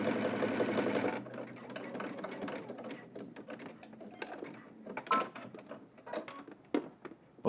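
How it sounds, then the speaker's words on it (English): A domestic sewing machine runs at a fast, steady whir for about a second while stitching elastic on a garment, then stops, followed by quiet handling clicks and rustles close by. "now we're just going to head up to the machine, cross them, and then do a little zigzag or straight stitch back and forth"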